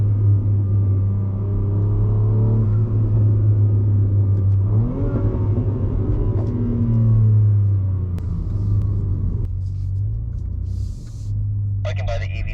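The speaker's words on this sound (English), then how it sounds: "Hear a bit of my turbo spooling." Inside a BMW M3 Competition, the engine drones loud and low, then revs up with rising tones as the turbo spools, before settling and fading. A few light clicks follow near the end.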